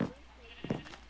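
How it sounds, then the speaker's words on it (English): A Minecraft sheep bleats, a short nasal baa that wavers briefly after a soft bump. A person's voice is heard faintly around it. "I'm going out to my sheepy babies so I could breed them and get more."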